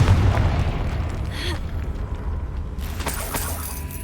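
Confringo spell blast in a Harry Potter-style video game, a loud booming explosion at the start that rumbles on under continuous low game sound, with a second burst of crackling noise near the end.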